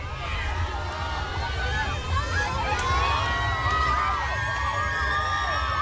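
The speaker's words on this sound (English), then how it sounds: "we can just be quiet and let them scream right there" A rowdy group of spectators at an Alabama Christmas parade screams and cheers in a steady, dense wash of shouting voices, with children's high cries rising through the outdoor crowd noise.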